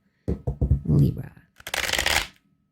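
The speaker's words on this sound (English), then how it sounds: "That was a fail of a shuffle there." Tarot cards being shuffled in a fumbling, uneven way, with a few quick riffles and then a longer burst of card noise. A person talks in the middle of it.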